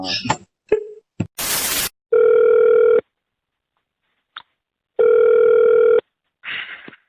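During a phone call, a line tone sounds as two loud, steady one-second bursts separated by a silent gap, following a cluster of short clicks and noise bursts, with a faint brief sound near the end.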